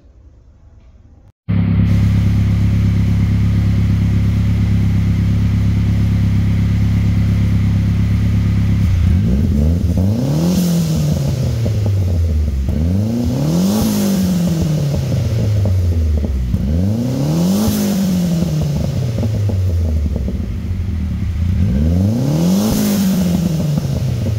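A Mazda Miata with a random misfire runs on a dyno, idling loudly before being revved four times in a regular rhythm, each rise and fall of the engine clearly heard up close.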